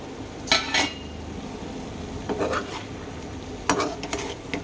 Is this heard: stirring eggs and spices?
yes